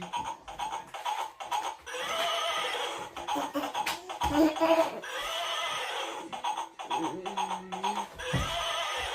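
A donkey brays loudly and close by on a village farm, its wheezing, rising-and-falling calls stretching across several seconds with little else around.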